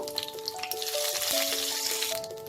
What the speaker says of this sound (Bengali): এবার এই তেলে আমি তেজপাতা আর সাদা জিরেটা ফোড়ন দেব।